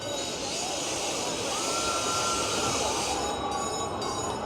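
The Alpen Express train at Busch Gardens Williamsburg theme park rolls past close by, a steady loud rumble with squealing wheel tones gliding up and down throughout.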